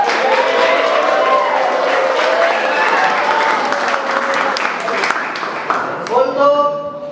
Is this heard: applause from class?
yes